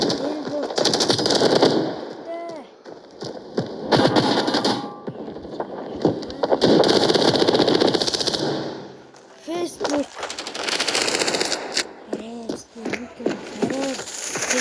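Rapid automatic gunfire in the mobile shooter game Standoff crackles in loud bursts separated by short gaps, with someone talking over and between the shots.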